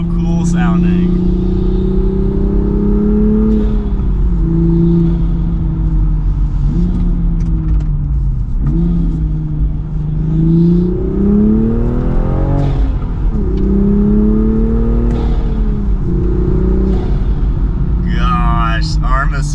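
A manual Toyota Supra with an Armaspeed carbon fiber intake revs repeatedly, its loud engine note rising and falling in several close pulls, with a person talking over it.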